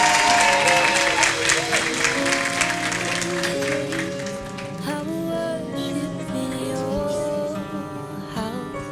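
Church congregation at a baptism celebration applauding, a dense wash of clapping that fades slowly under a sustained musical backdrop.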